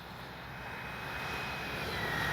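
FMS SU-27 twin 70mm electric ducted-fan RC jet making a low gear-down pass, a steady broadband whoosh and whine that swells gradually as it approaches, with no voices.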